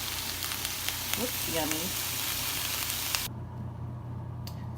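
Vegetables sizzle and crackle steadily in a hot frying pan while cooking shepherd's pie, close and constant, with a brief spoken remark; the sizzle drops off sharply near the end.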